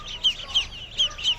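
Ducklings for sale in a pet shop in Amman, Jordan give four short, high-pitched peeps in an uneven rhythm, close and fairly clear, with no one talking.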